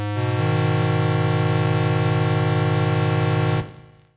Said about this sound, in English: This little synthesizer generates an 8-foot square wave